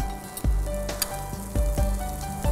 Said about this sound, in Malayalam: നമ്മൾ ഉള്ളി നന്നായിട്ട് വഴന്നു കഴിഞ്ഞിട്ടുണ്ട്. ഇനി നമുക്ക് ഇതിലേക്ക് കുറച്ച് ലാസ്റ്റ് കറിവേപ്പില